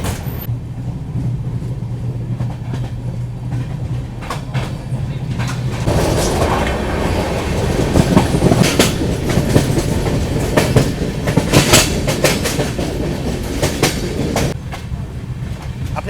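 The 12040 New Delhi–Kathgodam Shatabdi Express rumbles along in chair class with a rhythmic clickety-clack of wheels on rail joints, growing louder and rougher midway, steady and close throughout.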